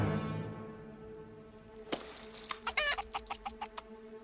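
A chicken clucks in a quick series of sharp, separate calls, loud and close, following a brief stretch of other sound with no talking.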